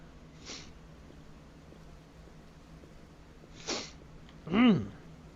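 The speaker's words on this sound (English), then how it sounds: "Again, I'm sorry for all the sniffling." A person sniffling, a couple of short nasal sniffs spaced apart and then a louder wet snort, close up with no talk, during a game stream.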